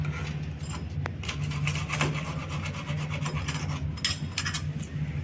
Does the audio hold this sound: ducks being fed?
no